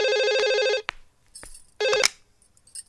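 A telephone rings in a film scene, two bursts of a loud electronic trilling ring separated by a short gap, with a few faint knocks and rustles between, and no talking.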